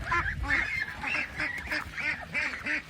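A young female white duck quacking in a repeated series of about six raspy, nasal calls at a steady pace, heard close by with no talking.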